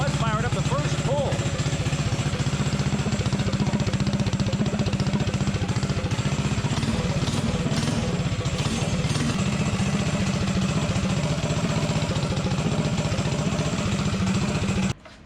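A small mini bike engine running on VP Racing nitro fuel idles steadily and close by after starting on the first pull, its rough, rapid buzz continuing unbroken for about fifteen seconds before cutting out at the end.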